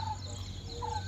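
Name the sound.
birds calling in nature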